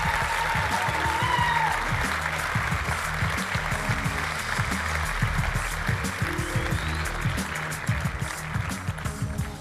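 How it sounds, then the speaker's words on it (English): Audience applause at a RailsConf 2011 Ruby Heroes Awards ceremony, a sustained, steady clapping from a large conference crowd filling nearly ten seconds with no break. "Let's have a round of applause for him."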